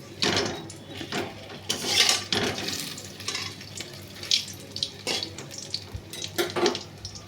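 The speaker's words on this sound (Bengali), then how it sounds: "এখানে হচ্ছে কুমড়ো ভাজা হচ্ছে" Pumpkin slices fry in a pan, giving a continuous hissing sizzle with louder crackling bursts and a few light clatters of the pan, close up and with no voices.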